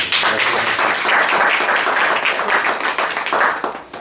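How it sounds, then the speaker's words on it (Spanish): A conference audience applauding steadily, dense clapping from many hands that holds for several seconds before beginning to taper off. "Un aplauso para él."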